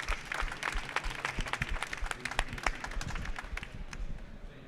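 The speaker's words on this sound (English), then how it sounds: "maybe let's just give everyone a round of applause here for their contributions" Audience applause at the end of a conference session at an EU space event, dense hand clapping filling the room steadily for several seconds with some background murmur.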